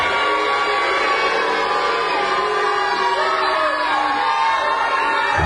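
A wrestling video game crowd cheers throughout a match, producing a loud, unbroken roar of voices with scattered whoops and yells rising above the steady din.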